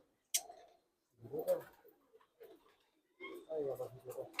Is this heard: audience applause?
no